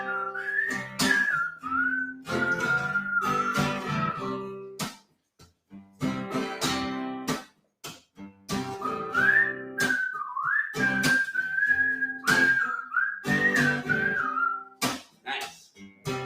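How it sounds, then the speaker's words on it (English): A solo whistled melody with sustained, sliding tones, carried alone in phrases with brief pauses; close and clear, with no talking. "You got a whistle solo or something?"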